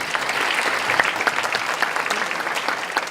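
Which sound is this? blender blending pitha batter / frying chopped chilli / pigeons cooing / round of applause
round of applause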